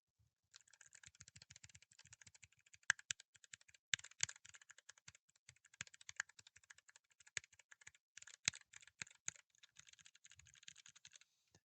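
A clicky mechanical keyboard, a Ducky board fitted with Kailh Box White switches, is typed on in quick bursts of crisp, sharp clicks with short pauses between runs, fairly quiet and alone.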